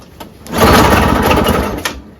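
A flooded Craftsman 5HP Tecumseh single-stage snowblower engine, spark plug just dried, turns over with a loud dense rattling churn that builds quickly, runs steadily for over a second, then fades.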